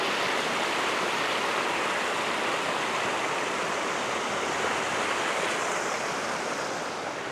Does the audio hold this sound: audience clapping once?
no